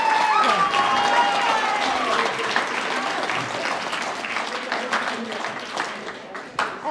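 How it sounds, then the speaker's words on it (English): An audience applauds with dense clapping that gradually thins out, while a voice talks over the start. "Give them a round of applause."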